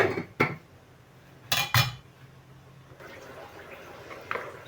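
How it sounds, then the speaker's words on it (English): A lid is set on a cooking pot of Nigerian chicken filling in a home kitchen: a couple of close metallic clanks and clatters, then a quieter bubbling hiss. "So I'll cover it and allow it to cook."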